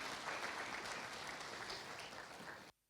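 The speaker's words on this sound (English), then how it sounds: "Can we just give him a lot of applause again?" An audience at a youth forum opening ceremony in Kigali applauds steadily for almost three seconds before the clapping cuts off abruptly into silence.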